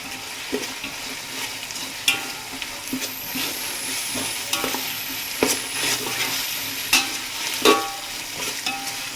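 Masala with ginger-garlic paste frying in a pan for pulao, a constant dense sizzle broken by scraping stirs and a few sharp utensil knocks against the pan.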